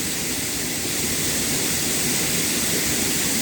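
Roaring rush of the Chhange hidden waterfall near Banepa, a dense, steady wash of falling water heard close and loud throughout, with no voices.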